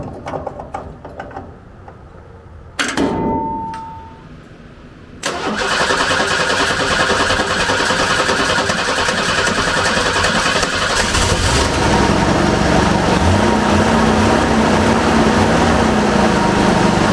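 A 1985 Ford F150 pickup engine cranks briefly with a whining starter, then catches and settles into a loud, steady idle that continues to the end, close by with no talk.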